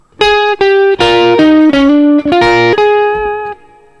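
Electric guitar playing the intro with a string bend, bright driven tone in a run of sustained double-stop notes with several pitch slides, loud and up front, no talking.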